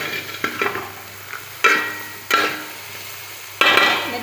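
Veg biryani gets stirred in a pot, four or five distinct scraping strokes of a spoon over a faint low sizzle, close up, with short pauses between them.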